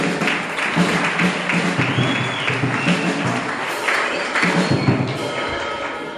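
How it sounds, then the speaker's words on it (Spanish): Parish gathering audience applauding steadily throughout, a dense, loud wash of clapping hands from a large group with no pauses. "Desen un aplauso a ustedes."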